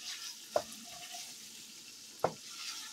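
Quiet continuous sizzle of food cooking in a hot pan, punctuated by two or three brief clacking scrapes as it is stirred, heard up close without speech.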